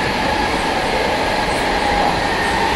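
Mumbai suburban local train heading to Dombivli, a loud continuous rumble of rail cars and wheels heard from on board or close by, steady throughout with no talking.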